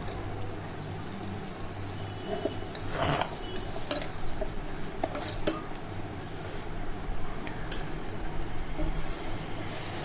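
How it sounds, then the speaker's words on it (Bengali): Rice poured slowly into hot ghee fries with a steady low sizzle, broken by occasional scraping and clinking from stirring against the pot. "এবার আমি চালটা দিয়ে নিচ্ছি আস্তে আস্তে আমি চালটা ঢেলে নেবো"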